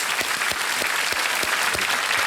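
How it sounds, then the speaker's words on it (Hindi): A studio audience at a televised quiz show applauds steadily and loudly, dense clapping that carries on evenly throughout with no other sound on top. "तालियों के साथ आपका हम अभिनंदन करते हैं"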